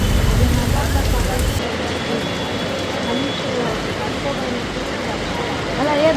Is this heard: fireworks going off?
no